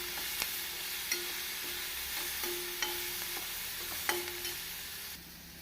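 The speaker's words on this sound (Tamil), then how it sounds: "வெங்காயம் இப்படி பொன்னிறமாக வதங்கவும்" Onions sautéing in oil until golden for chana sundal, a steady low sizzle with occasional soft stirring clicks and scrapes, no voices.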